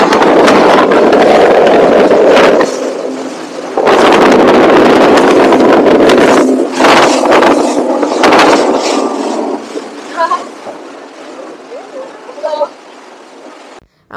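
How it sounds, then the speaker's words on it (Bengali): A speedboat crosses the sea toward Maafushi, its engine roar and heavy wind buffeting loud and close. The roar drops out briefly twice and fades near the end, leaving quieter water and thin bursts of high sound. "আমরা এখন স্পিড বোট ট্রান্সফার মাফুসির দিকে যাচ্ছি।"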